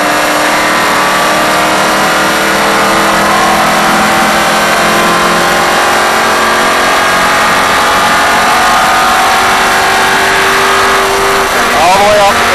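A NASCAR race car engine accelerates steadily on track during a driving experience, a loud continuous roar rising in pitch, with a brief shift in tone near the end.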